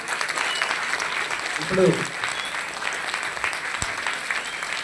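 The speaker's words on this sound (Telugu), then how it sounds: "చప్పట్లు గట్టిగా." An audience claps loudly at an event, a steady wash of applause throughout with a brief spoken word rising above it partway through.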